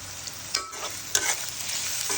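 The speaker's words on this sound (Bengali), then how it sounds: "এখন হচ্ছে পেঁয়াজ বেরেস্তা করে নেব" Onions fry with salt and turmeric for beef biryani, a bright, close hiss that carries a couple of quick stirring scrapes.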